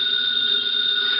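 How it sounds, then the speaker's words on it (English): A telephone rings with a steady, shrill electric bell tone in an old-time radio detective drama, continuous and fairly loud for just over a second with no talk over it. "Answer the phone."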